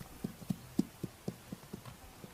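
Hooves of Pryor Mountain wild horses clip-clop in a steady walking rhythm, about ten distinct thuds over a couple of seconds, moderately close and alone.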